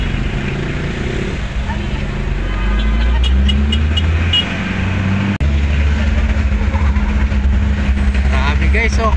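Busy night road traffic on Harrison Road crowded with visitors after a lantern parade, a loud continuous rumble of car and engine noise heard from a vehicle, with people talking over it.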